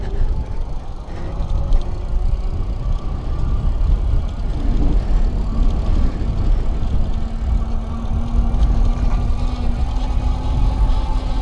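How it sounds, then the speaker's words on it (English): A Pedego City Commuter electric bike's hub motor whirs steadily under throttle, a continuous mechanical drone with a faint rising whine, close and fairly loud with no talking. "kick up that nice kickstand, twist the throttle, there we go."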